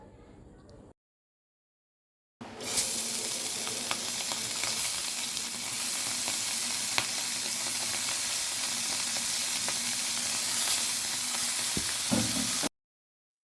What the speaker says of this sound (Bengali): অল্প কিছু পুঁটি মাছ রেখে দিয়েছিলাম, এগুলো হচ্ছে ভেজে নিচ্ছি।